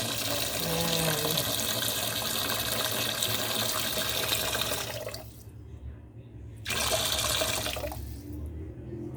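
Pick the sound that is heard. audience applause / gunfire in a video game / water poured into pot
water poured into pot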